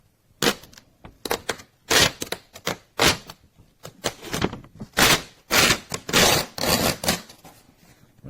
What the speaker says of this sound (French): Alors ça déchire pas super bien là, pour le coup